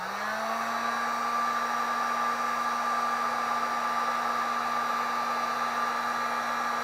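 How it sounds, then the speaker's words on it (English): A heat gun blows hot air onto an NTC temperature sensor, making a steady, close, loud whooshing roar with a constant motor whine that ramps up briefly at the start and then holds evenly, alone without talk. "Let me get the heat gun and apply some heat."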